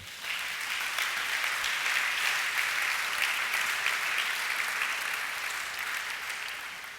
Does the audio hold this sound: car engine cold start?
no